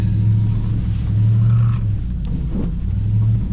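A Ram 1500 TRX pickup on an off-road 4x4 course rumbles and revs, the low engine note swelling and easing in surges under no talk, fairly close and loud.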